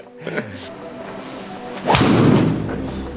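A PXG driver strikes a golf ball off the tee in a single loud, sharp impact, and a long rushing ring fades after it, with no talk over it.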